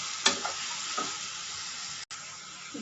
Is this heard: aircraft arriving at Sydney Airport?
no